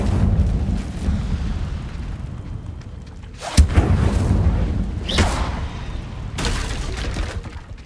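In Hogwarts Legacy, casting the Incendio fire spell sets off three sharp whooshing bursts, each a sudden roaring flare over a low rumbling background.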